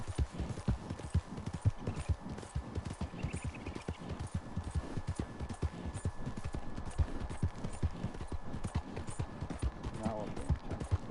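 Steady horse hooves clip-clopping at a brisk, even rhythm throughout, fairly close, with a voice talking over them at times, from a cowboy video game with a drunk rider.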